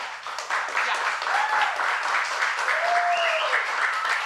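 Audience applause at a talent-show singer audition finalist announcement, a steady wash of clapping from a crowd with a couple of brief tonal whistles or squeals riding over it.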